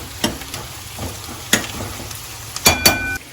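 Chopped onions soften in hot oil in a pan. There is a continuous sizzle with several sharp spatula scrapes and taps, a couple of them close together near the end, and no one speaking.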